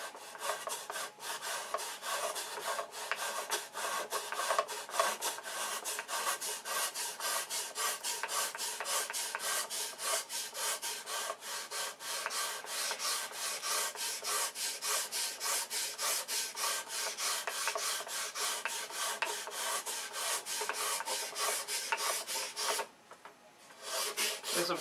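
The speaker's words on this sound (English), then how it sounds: "because of all this sanding." Steady back-and-forth rasping of sandpaper on a wooden fuselage, close and rhythmic, continuing with a brief pause near the end.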